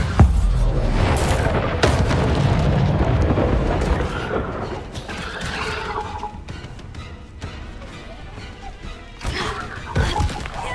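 A Bombarda spell blasts in Hogwarts Legacy, a loud opening boom followed by crashing, thudding impacts and debris, with later bangs and clatter fading into a rumbling battle.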